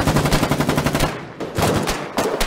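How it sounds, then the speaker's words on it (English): Enemy machine gun fire in the video game Foxhole, heard as loud, dense rapid bursts of gunshots with two short pauses, close and dominant, with no voices. "They have a machine gun. That's a machine gun. Keep your heads down."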